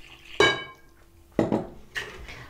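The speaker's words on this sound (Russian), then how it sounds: "И сначала мешаю вот так вот муку с яйцами." A utensil scrapes and clinks in a bowl while flour is mixed with eggs for spätzle dough, three separate close knocking strokes with quiet gaps between them.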